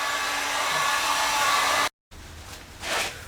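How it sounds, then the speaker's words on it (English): A heat gun heats a piece of thick electrical conduit PVC with a steady close whooshing blast that cuts out briefly, then resumes more faintly with a surge near the end. "take a heat gun and just heat it up"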